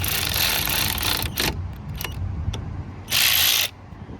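Hyper Tough 12-volt cordless ratchet driving a bolt, a steady close motor whir broken by short bursts and one loud final buzz, with no talk.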